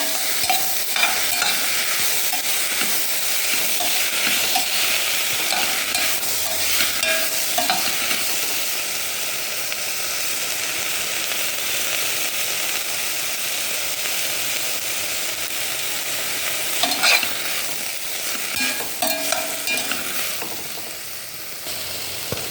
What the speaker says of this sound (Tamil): இப்போ தக்காளி, சின்ன தக்காளி ஒரு 2 தக்காளி எடுத்தேன். போட்டு கொஞ்சம் கிண்டிக்கலாம்.